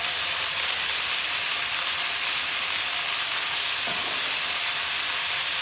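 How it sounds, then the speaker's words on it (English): Browned beef and onions frying in a pot for beef stew, giving a steady, even sizzle and hiss throughout with no voices. "So I'm going to add the onions now"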